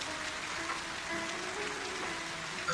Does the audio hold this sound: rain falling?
yes